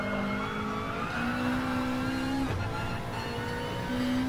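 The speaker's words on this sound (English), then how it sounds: "Hard braking for a right-hander." A race car on the Nürburgring Nordschleife brakes hard for a right-hander, the engine drone dropping and shifting pitch through downshifts, steady and close with no talk.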